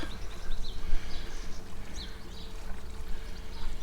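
Water pours steadily into a Thetford cassette toilet tank from a container, a continuous close splashing gush with some hollow gurgling.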